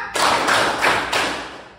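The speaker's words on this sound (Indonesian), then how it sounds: "tepuk tangan 4." Students clapping hands together in a classroom counting exercise, a few sharp group claps in quick succession, close and fairly loud.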